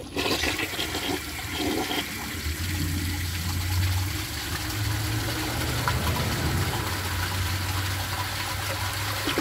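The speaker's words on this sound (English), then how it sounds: "But let's give it a flush and do some tests." A 1990 American Standard Cadet toilet flushes with a loud rushing gush of water, then a long steady swirl and gurgle as the tank refills, close up, with no talking.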